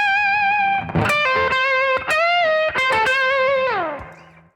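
Electric guitar plays a funky blues lick: clean sustained notes with string bends and sharp picked attacks, close and alone, the last note sliding down and fading out.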